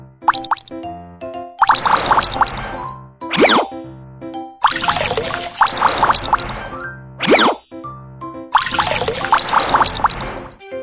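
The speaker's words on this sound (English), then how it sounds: "Tap to wring water out." Cartoonish watery splashing and gushing from clothes being wrung out in a children's game, three long bursts of pouring and trickling set against bouncy plinking musical tones, each followed by a quick springy boing.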